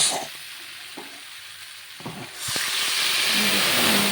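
Water poured into a simmering fish and taro curry sets off a loud, steady hiss that swells suddenly after a few soft stirring knocks and stays high to the end.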